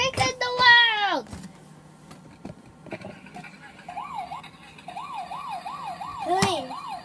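A voice imitates a police car siren during toy play, rising and falling wails with several repeated up-down cycles, mixed with other childlike vocal sounds and brief clatter, close and fairly loud.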